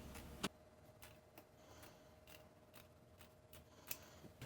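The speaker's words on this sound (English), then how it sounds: "with a pair of scissors, go ahead and cut it." Faint, quiet snips of scissors cutting drawer liner, several sharp clicks spaced irregularly over a soft background.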